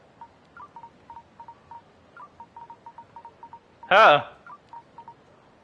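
Phone keypad tones from a mobile phone in the Yakuza Kiwami 3 video game, a steady run of short evenly spaced beeps broken by one loud burst of louder sound, with a brief spoken exclamation.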